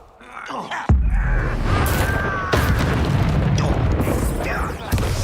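A fire spell bursts in Hogwarts Legacy during a combat duel: a sudden heavy boom followed by a sustained roaring, crackling blaze with a lower thump near the end, all loud and close.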